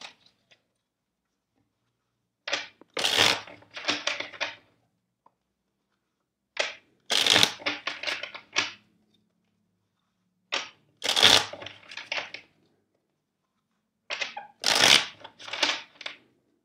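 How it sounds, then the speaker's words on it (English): A deck of cards is riffle-shuffled four times, each burst a quick rippling flutter of snapping cards separated by short quiet pauses. "I will shuffle the deck for you four times."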